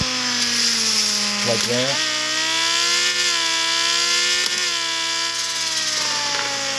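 The front bumper of an RC car scrapes the ground while a steady electric motor whine runs throughout. Brief rough scraping bursts rise over the whine twice, and a voice speaks briefly.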